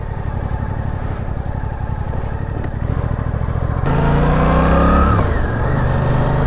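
A 2023 Suzuki GSX-8S motorcycle accelerates hard, its engine droning loud and close with rising revs, then a quick gear change and a fresh climb in pitch.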